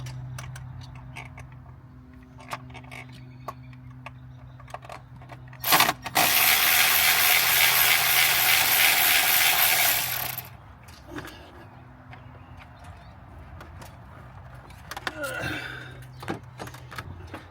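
A ratchet works on a screw holding an ignition coil on a Ford truck, giving faint mechanical clicks and ticks, then a loud steady hissing burst for several seconds, with more scattered clicking and handling afterward.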